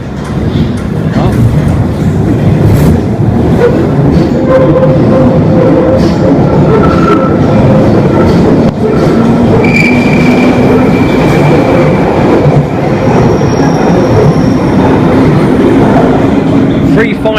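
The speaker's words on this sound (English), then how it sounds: "It's going to be loud when it departs. It's going to get the wheel slip." A London Underground train pulling away loudly with its wheels slipping, a dense roaring rumble of motors and rail noise that fills the whole stretch, with faint whining tones drifting through it.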